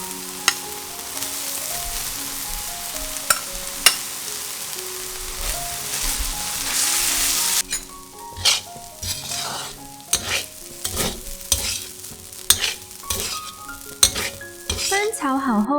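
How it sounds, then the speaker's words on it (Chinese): Cooled rice stir-fried with kimchi and kimchi juice in a pan, loud continuous sizzling with clinks and scrapes of a utensil against the pan, which turn into sharper, more spaced knocks toward the end. "翻炒均匀"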